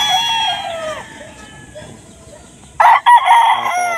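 A young gamefowl bullstag rooster crows nearby, a drawn-out cock-a-doodle-doo that trails off, followed after a quiet pause by a second louder, sharper burst of crowing.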